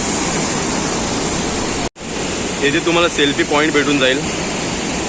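Loud, steady roar of Napne waterfall in Sindhudurg fills the whole clip, heard from a glass bridge, broken by a brief cut, while someone speaks over the rushing water.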